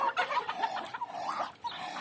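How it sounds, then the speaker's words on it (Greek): Two male ducks fight in a farmyard, giving a flurry of loud, close, harsh quacking and clucking calls in quick bursts amid scuffling, with no speech. "Θα παλέψουνε τώρα αυτοί οι 2 αρσενικοί πάπιοι."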